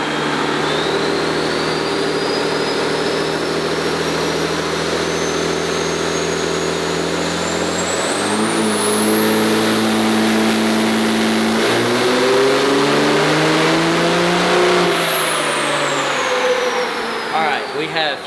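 A twin-turbo 2005 manual super stock truck engine revs hard on a dyno and climbs steadily in pitch under heavy load, then drops back and winds down, loud and close throughout.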